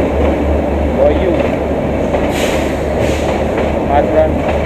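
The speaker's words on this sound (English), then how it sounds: "Matheran toy train." Matheran toy train on the narrow-gauge hill railway, heard from onboard as a steady, loud rumble of wheels and carriage noise with a constant low drone throughout, no distinct clacks or whistle standing out.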